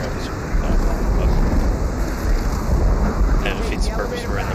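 Rain and rolling thunder in the Left 4 Dead 2 "Hard Rain" campaign, a dense steady wash of downpour with low rumbling throughout, with brief bright spatters near the end.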